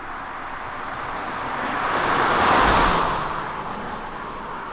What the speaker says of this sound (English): Now let's go out and drive this Hyundai Casper then.